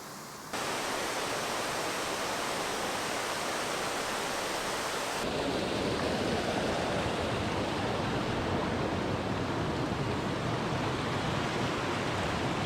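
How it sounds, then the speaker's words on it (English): River water rushes in a busy U.S. national park in spring. A dense, steady roar starts abruptly and continues unbroken, close and loud, with its texture shifting partway through. "man, that water sound is rough"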